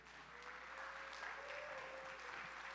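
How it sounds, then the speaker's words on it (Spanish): A church congregation applauds, a soft, steady clapping heard from a distance that continues for a few seconds. "Denle un aplauso aquí a Davidcito."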